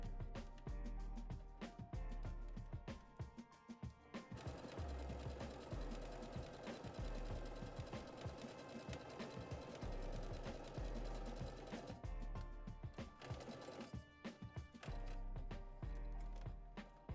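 A sewing machine stitches a jumpsuit at the waist edge in long continuous runs with short pauses, a steady close mechanical whir with no talking.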